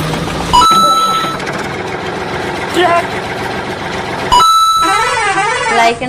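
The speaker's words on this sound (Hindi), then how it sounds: "ट्रैक्टर," A cartoon tractor engine effect idles in a loud, continuous rumble with brief swells, broken by a sudden cut and restart, while a voice talks intermittently over it.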